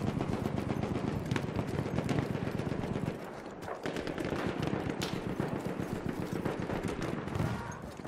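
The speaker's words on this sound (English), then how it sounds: "Enemy machine gun!" An enemy machine gun fires in Battlefield 1, a dense, loud, continuous stream of gunfire with overlapping shots that runs nearly eight seconds. It dips briefly once midway and then carries on.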